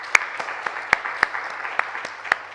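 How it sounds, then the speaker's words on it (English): An audience claps at a science and ethics event, with sparse, scattered hand claps spaced out irregularly rather than a full ovation, fairly near and without talk. "So I want to applaud you for your participation."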